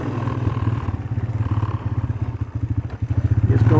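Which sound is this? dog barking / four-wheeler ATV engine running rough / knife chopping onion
four-wheeler ATV engine running rough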